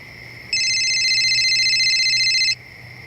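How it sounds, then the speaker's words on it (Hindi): An electronic phone ring sounds in a steady warbling burst for about two seconds, loud and close, then stops abruptly over faint background hiss. "प्रकाश जी, फोन उठाइए, किडनैपर का है?"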